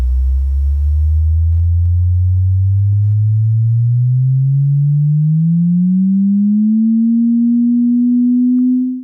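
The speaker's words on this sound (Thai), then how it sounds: "ย่านเสียงเบสครบ เริ่มได้ยินเสียงตั้งแต่ความถี่ 20เฮิรตซ์" A loud, pure bass test tone played through Acer AHR155 headphones sweeps slowly and smoothly upward from a very deep rumble starting at 20 Hz to a low hum, steady and alone.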